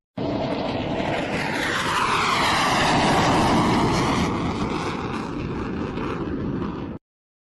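A fighter jet roars past in a loud, sustained rush of engine noise that sweeps in pitch as it flies by, then cuts off abruptly.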